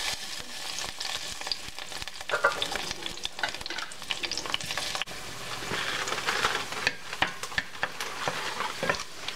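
Garlic cooks in extra virgin olive oil in a pan for green spaghetti. A steady close sizzle of frying runs throughout, with frequent scraping and clicking of a utensil stirring in the pan, and no talking.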